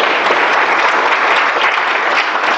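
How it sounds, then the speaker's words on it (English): Audience at a web conference gives loud, sustained applause, a dense, close wash of clapping from many hands that fills the moment with no talk over it. "A big round of applause for Dr. Snuggles, please, everyone,"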